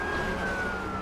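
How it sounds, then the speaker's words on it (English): Ambulance siren in the PS2 racing game Midnight Club II, set in Los Angeles, a steady electronic wail held over continuous engine and road noise as the car passes it. "Just passing by an ambulance"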